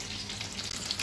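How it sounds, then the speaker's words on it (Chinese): Shrimp deep-frying in hot oil in a wok gives a loud, steady, close sizzle with a dense bubbling crackle that runs unbroken throughout. "现在呢这个油温差不多了，我们开始下锅炸"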